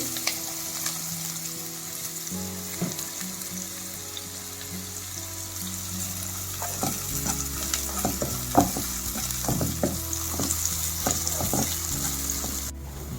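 Cumin seeds, chopped onion and green chilies frying in oil in a pan, a quiet steady sizzle broken by occasional scraping and stirring clatter, close up with no talking.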